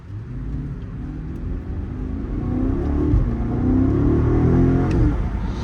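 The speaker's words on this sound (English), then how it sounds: "I'll do a little pull with sport mode so you guys can hear" A 2023 BMW X7 M60 accelerates hard in sport mode, its exhaust building into a steady, deep rumbling roar that grows louder across the pull, with no talking over it.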